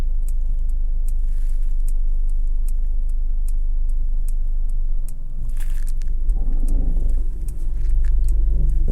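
A 2024 Mercedes E350 4Matic parks itself, with a low, steady engine rumble, faint ticks and soft shifts in tone as it manoeuvres slowly.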